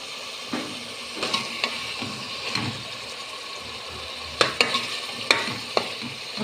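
Ingredients for freekeh soup fry with tomato and harissa in a pot while a spoon stirs and scrapes, giving steady sizzling with scattered sharp knocks, a few louder strikes near the end.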